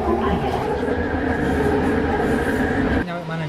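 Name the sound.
LRT light rail train riding toward KLCC, Kuala Lumpur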